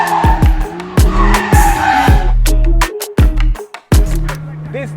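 A Lamborghini Temerario with a 10,000 rpm redline drifts hard, its tires skidding and squealing in loud repeated bursts over a roaring engine with sharp rev changes and brief gaps.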